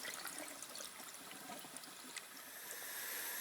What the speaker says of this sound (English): Now drain salted water.